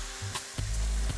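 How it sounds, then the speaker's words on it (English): Asparagus sizzling and crackling steadily on a hot Blackstone griddle, with a few soft knocks and scrapes of utensils. "We got that sizzle now."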